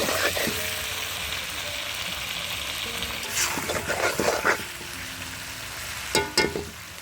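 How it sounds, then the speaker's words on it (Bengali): Meat sizzles in a pot over a blazing wood fire on a rooftop, a steady frying hiss broken by a few scraping stirs and clinks of the spoon. "কষানো চলছে, কাঠের গনগনে আঁচে রান্না হচ্ছে।"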